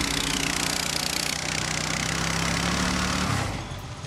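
A boat engine accelerating while towing a wakeboard rider on the water, a steady droning motor under broad wash noise that holds for about three seconds, then drops away.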